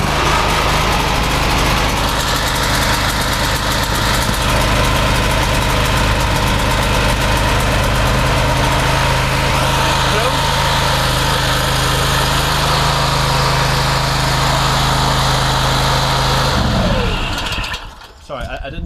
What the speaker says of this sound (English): So let's start the machine and focus on this bleed hose.